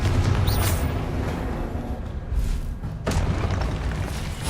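Confringo explosive spell in Hogwarts Legacy, deep booming blasts rolling one after another, loud and close, with magical whooshes between them.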